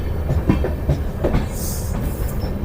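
An LHB-coached Kotdwar Express passenger train running on rails near Tapri Junction, heard from on board as a loud, steady rumble with rhythmic clickety-clack of wheels over rail joints.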